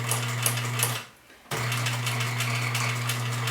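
Sewing machine stitching fabric for a face mask, a steady fast whirring chatter close by that stops briefly for about half a second before resuming at the same even pace.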